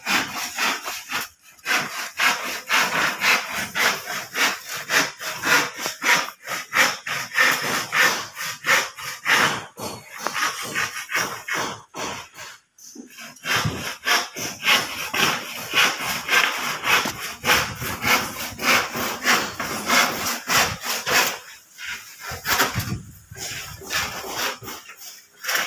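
A hand saw cuts through wood in a steady rhythm of rasping back-and-forth strokes, loud and close, with a couple of brief pauses before the cutting resumes.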